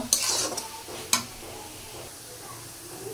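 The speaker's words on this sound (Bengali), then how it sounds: "এই যে মশলা প্রায় ভাজা হয়ে গেছে, পানি উঠে আসতেছে" Spices sizzle in a hot pan with a soft steady hiss, punctuated by a couple of sharp scraping stirs near the start.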